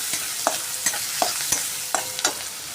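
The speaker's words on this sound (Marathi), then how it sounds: "त्याच्यामध्ये आपण आता कांदा घालून घेणार आहे छान असा लालसर होईपर्यंत परतवून घेऊया" Onions frying in oil in a kadhai for a Kolhapuri chicken rassa, a bright continuous sizzle punctuated by regular scraping clicks of a spoon stirring, close and fairly loud, with no voices.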